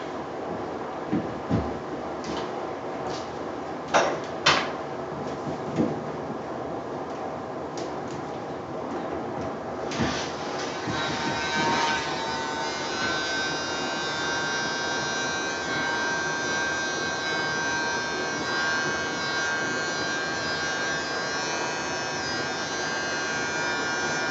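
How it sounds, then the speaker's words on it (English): A small electric blower buzzes steadily over a wet acrylic pour painting of a wheat field and big sky, a continuous close drone with a few faint clicks near the start. "Try the blower."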